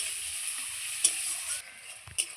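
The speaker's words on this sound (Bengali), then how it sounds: "এই পেঁয়াজটা হালকা লাল লাল লাল ভাজা অবধি আমি ভেজে নেব" Onion frying in a pan for a Bengali-style pabda fish curry, a steady moderate sizzle with a couple of sharp spatula taps, close and without speech.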